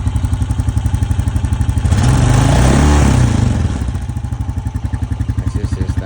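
Engine of a 2025 Honda Rancher 420 ATV running just after a cold start in freezing weather, a steady close thumping idle that swells into a louder rev for a couple of seconds before settling back to idle.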